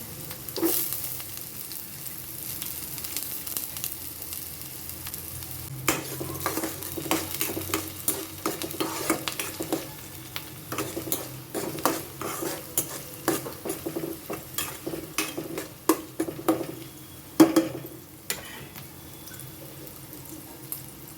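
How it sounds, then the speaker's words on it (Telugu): Chopped onions fry in a hot pan for tomato rice, giving a steady close sizzle broken by frequent scraping stirs, with a few sharper clatters near the end and no talking. "అందులో మనం ముందుగా కట్ చేసిన ఆనియన్స్ ముక్కలు ఉన్నాయి కదండి వాటిని వేసి బాగా ఫ్రై చేయండి"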